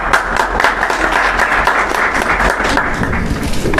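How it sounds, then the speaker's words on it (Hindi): Audience at a school ceremony in Uttarakhand claps to welcome a top-scoring Class 10 student, a loud, dense and steady applause filling the whole stretch with a low background rumble. "तालियों के साथ स्वागत करेंगे।"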